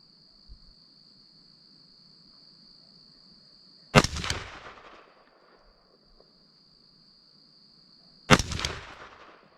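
Two sharp rifle shots ring out at a shooting range several seconds apart, each with a brief echoing tail, over a quiet background with a steady high insect-like whine.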